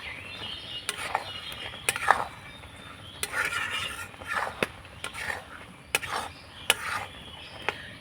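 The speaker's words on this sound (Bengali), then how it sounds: "একটু নাড়াচাড়া করে নেব" Homemade pasta tossed with chopped coriander in a pan, with repeated soft scraping and clinking strokes of a utensil against the pan in an irregular rhythm, fairly quiet and close.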